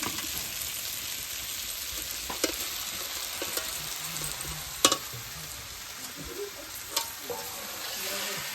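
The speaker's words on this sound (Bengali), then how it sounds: "মাছটা দিলাম, এখন হালকা একটু কষিয়ে তারপরে জল দিয়ে দিব" Fish fries in a pan of oil in a village kitchen, giving a steady close sizzle with a few sharp clinks of a spatula against the pan. No one speaks.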